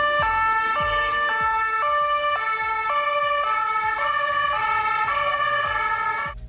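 A Paris police car siren blares loud and near, its two-tone wail stepping steadily back and forth between high and low pitches for several cycles before fading slightly at the end.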